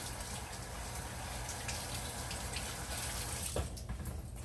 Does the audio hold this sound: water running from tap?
yes